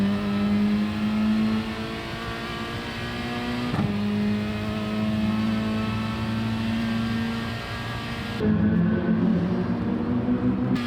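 Peugeot RCZ Gr.4 race cars at the Red Bull Ring in Gran Turismo Sport scream along in a pack, a loud sustained engine whine with gear-shift dips and changing pitch, no voices.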